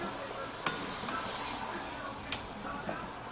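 Swiss steak pieces brown in a hot pan, giving a steady, fairly quiet sizzle with a few sharp clinks of a utensil against the pan.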